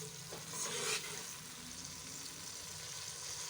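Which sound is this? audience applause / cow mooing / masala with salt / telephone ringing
masala with salt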